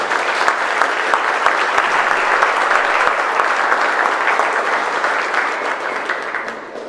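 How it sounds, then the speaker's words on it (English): Audience applause at a Cub Scout recognition event honoring three leaders, loud sustained clapping from a sizeable crowd that holds steady for several seconds before beginning to fade. "So let's give those three leaders a round of applause."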